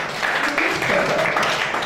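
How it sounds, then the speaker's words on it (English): An audience at a nation-building conference claps for a woman in a steady burst of applause, with voices talking over it. "Let's clap for her."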